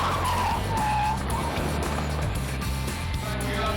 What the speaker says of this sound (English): It's all about rear-wheel drive V8 muscle in the new Chevrolet Corvette C6 Roadster.